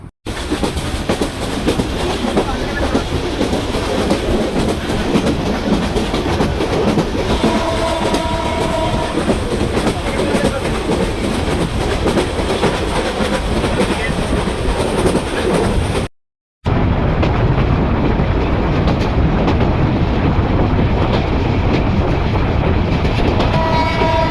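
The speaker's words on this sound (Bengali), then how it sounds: "আমাদের ট্রেনটির নাম করতোয়া এক্সপ্রেস" Karatoya Express passenger train running on the rails on a Bangladesh route, heard from on board as a loud continuous rumble and rattle of wheels and carriages, with a horn sounding faintly partway through and a brief cut near the end.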